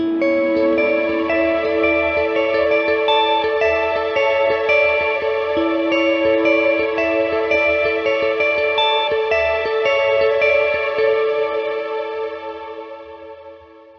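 Sustained tones pass through a Strymon BigSky MX reverb pedal in Cloud mode, forming a lush, shimmering ambient wash of layered notes that holds steadily before slowly fading out, with no talk.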